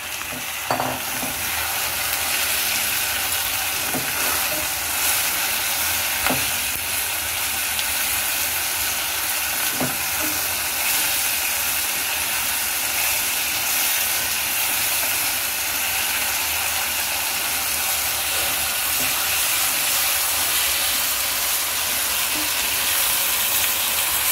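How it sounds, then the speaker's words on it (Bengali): Marinated crabs fry with onions in a pan for a masala crab dish, giving a loud, continuous close-up sizzle with a few sharp stirring clicks scattered through, and no talking. "এবার আমি এর মধ্যে ম্যারিনেট করা কাঁকড়াগুলো দিয়ে দেবো, কারণ এই পেঁয়াজের সঙ্গেই কাঁকড়াগুলো একটু ভেজে নিলে টেস্টটা অসাধারণ হয়।"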